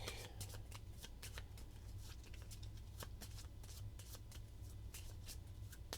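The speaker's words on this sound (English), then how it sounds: "Let me give this a good shuffle here." Cards of a faction deck for the board game Dawn of Ulos being shuffled by hand, a steady run of crisp riffling snaps and soft slides, close and fairly quiet over a low background hum.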